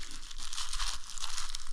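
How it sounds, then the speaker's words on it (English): Thin plastic bag crinkling and rustling steadily as it is pulled over a bare foot to keep boots dry in extreme arctic cold; close, continuous crackle with no voices. "I do put on plastic bag directly on my skin."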